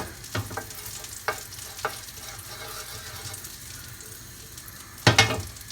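Oil heats in a frying pan for a bacon and mushroom omelette, a continuous soft sizzle and crackle punctuated by a few sharp pops and a louder spitting burst near the end, close up with no talking.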